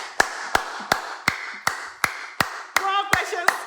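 A pair of hands claps in a steady, even rhythm of about ten sharp, close claps, with a voice talking over the last few.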